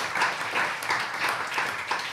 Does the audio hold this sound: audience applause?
yes